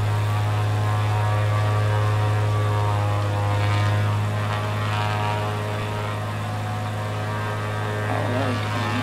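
Steady, sustained drone of an aircraft engine flying over the Cedar Point Amusement Park area in Sandusky, Ohio, in Microsoft Flight Simulator, a constant hum that varies slightly in pitch near the end.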